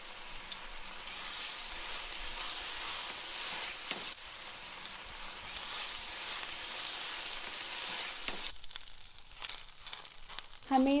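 Boneless chicken fries in two tablespoons of oil in a pan over medium flame, giving a steady, dense sizzle that runs throughout, with a few stirring scrapes near the end.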